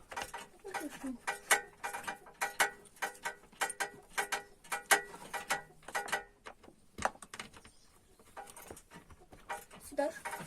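A wrench clicks and ratchets on bolts during repair of a VAZ 2106 car, with bursts of rapid metallic ticks repeating close by and pausing between turns, and people talking intermittently.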